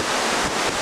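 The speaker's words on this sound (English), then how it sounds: "you'll see the spray coming over the top and the curl pulling my own rocks back out to sea" Storm waves from Ernesto surge and splash against a seawall, a loud, close, continuous roar of broken water and spray with wind buffeting the microphone throughout this brief moment.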